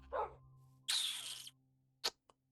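A dog in the Minecraft video game gives a few short, separate barks and yips, sharp and isolated against silence.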